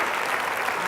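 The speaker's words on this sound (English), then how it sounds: "a big round of applause" An audience applauds a panel at a philanthropy data discussion with steady, dense clapping that fills the room.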